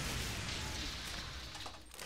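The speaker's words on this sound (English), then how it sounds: "You might have already noticed this explosion blast, right?" Dense, continuous roar of explosion blasts in the video game Outriders, a steady loud wash of booming detonations with no pauses across the whole stretch.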